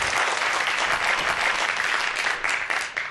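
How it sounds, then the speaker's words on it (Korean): An audience at a lecture applauds, dense clapping from many hands that holds steady and close for the whole few seconds, with no voices over it. "여러분들 큰 박수 부탁드립니다."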